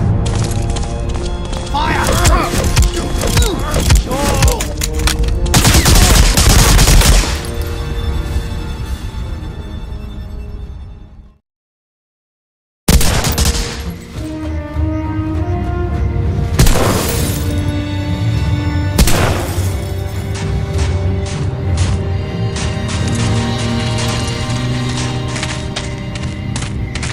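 Gunfire and explosions in the World War II shooter Medal of Honor: Allied Assault, with heavy booming blasts and crashing debris over a loud battle din, a brief silent gap midway, then more bursts of fire and impacts.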